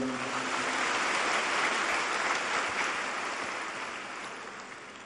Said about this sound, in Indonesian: Sekali lagi kita berikan aplaus buat beliau berdua